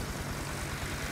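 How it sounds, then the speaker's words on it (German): A helicopter arrives during a jewelry-store heist in a video game, giving a close, steady engine drone with a rapid rotor pulse throbbing underneath, and no voices. "unser Helikopter ist schon mal da"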